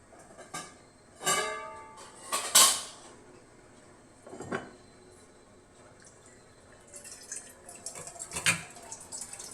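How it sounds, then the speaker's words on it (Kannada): Water is poured into a bowl in a home kitchen while idli batter is prepared, heard as a few short splashing pours and drips with light clinks of a spoon against dishes, close and alone. "ಒಂದು ಬೌಲಲ್ಲಿ ನೀರು ಹಾಕೊಳ್ಳೋಣ"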